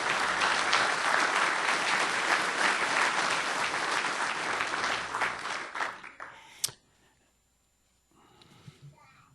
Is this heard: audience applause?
yes